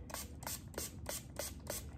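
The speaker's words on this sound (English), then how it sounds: "So I'm just gonna start to spray this here in my container." A spray bottle mists water onto tie-dye paper towels in a container, six short, evenly spaced hissing squirts heard up close and quiet, with no voices.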